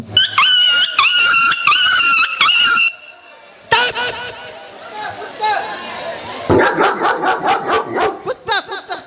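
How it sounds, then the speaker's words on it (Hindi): A dog barks in rapid bursts, loud and close, with a second stretch of excited yapping and chatter later on, at a Maithili folk dance performance where people talk throughout. "कुत्ता कुत्ता।"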